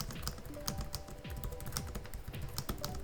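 Rapid, uneven clicking of keys on a Lenovo Legion 9i laptop keyboard, close and fairly quiet, continuing steadily with no voices.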